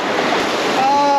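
Water from a waterfall at a hot spring rushes in a steady, close, even roar that carries unbroken through the whole moment.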